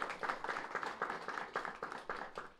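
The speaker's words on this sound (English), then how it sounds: "A round of applause, GC." A small crowd claps together in a steady patter of applause, moderately distant, lasting a few seconds.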